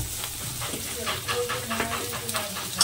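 Ginger-garlic paste and chilli paste fry in a pan, giving soft intermittent sizzling and stirring scrapes beneath a quiet voice speaking throughout.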